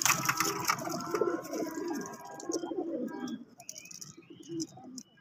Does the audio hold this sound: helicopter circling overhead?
no